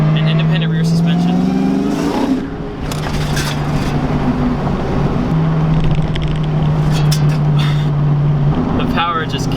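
A 500whp Terminator Cobra pulls hard along back roads, its engine note rising steadily and loud through the gears with a brief shift gap, close up under someone talking.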